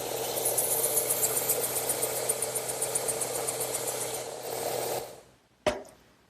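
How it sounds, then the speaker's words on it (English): A steady, close abrasive rasp of sanding wooden furniture parts in a woodworking shop runs for about five seconds over a low motor hum, then stops with a single knock. "a little bit of sanding will help smooth up these surfaces"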